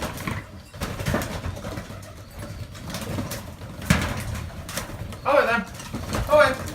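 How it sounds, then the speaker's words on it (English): Racing pigeons trapping into their loft coo softly, with a few clearer throaty coos near the end, over wing flutters and shuffling; someone speaks briefly and calls to the birds. "I'll put that video on now anyway of the birds trapping in."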